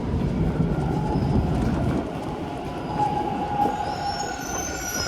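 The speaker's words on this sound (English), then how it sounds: "And I think that's the westbound train." A westbound TTC subway train pulls into Runnymede station in Toronto, a loud, close rumble of wheels on rails with rising metallic squeals and faint clickety-clack, with no voices over it.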